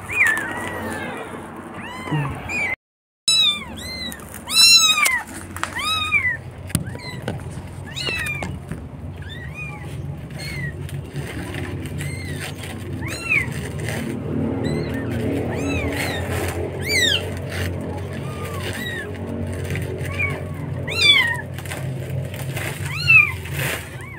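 Four white-and-orange kittens mew repeatedly in high, rising calls, close by, with a low steady rumble beneath and a brief dropout early on.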